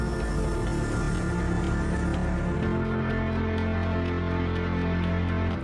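Menu music from the racing game Assetto Corsa Competizione plays as a dense, sustained electronic track at a moderate level, with a steady ticking pulse entering midway; no talking is heard.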